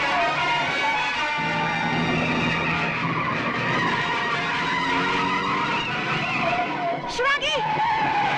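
A large car skidding out of control in a comedy action film climax, a loud sustained tire squeal and engine roar with a sharp screech near the end, heavy and continuous with voices shouting over it.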